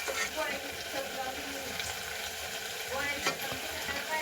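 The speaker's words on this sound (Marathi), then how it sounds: "तेल सुटसपर्यंत आपण मसाले परतून घ्यायचे तेलामध्ये" Spice masala fries in hot oil in a pan with a steady, close sizzle and occasional stirring sounds.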